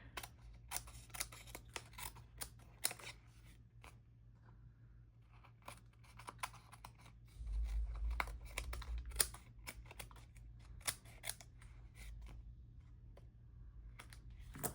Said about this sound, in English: let's finish trimming and see what we've got